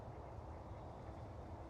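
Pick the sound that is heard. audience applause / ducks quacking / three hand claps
ducks quacking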